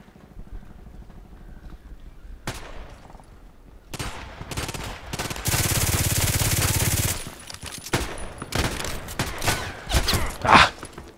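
Glock 18 pistol firing full-auto bursts in the shooter game Contract Wars: loud rapid crackling volleys from mid-clip on, with scattered shots and footsteps around them.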